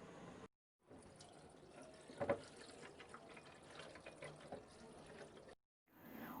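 Cold tap water pours steadily over boiled noodles in a strainer, a faint, continuous splashing stream that cuts off briefly at the start and end.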